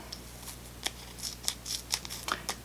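Scissors snip through strips of tape being cut thinner for dress fitting, a series of short crisp cuts spaced irregularly, close and fairly quiet with no talking.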